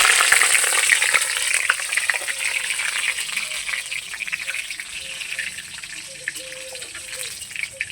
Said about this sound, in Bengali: 5 ফোড়ন, শুকনো লঙ্কা, তেজপাত কিছুটা নেড়ে চেড়ে ফোড়ন করে নিয়েছি।